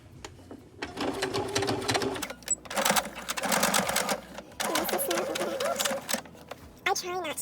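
A sewing machine stitches fabric in quick bursts of rapid needle clatter, stopping and starting several times, with a voice talking briefly between the runs.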